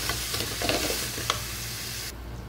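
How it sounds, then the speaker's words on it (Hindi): Raw chicken being mixed by hand with cornflour for chicken lollipops, giving a close, wet, squelchy stirring with soft slaps and scrapes that stops abruptly after about two seconds. "हम इसमें चिकन डाल देंगे और इसको अच्छे से मिक्स कर लेंगे।"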